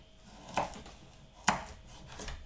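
A knife chops carrot finely on a board with two crisp, distinct strikes about a second apart and softer cuts between them.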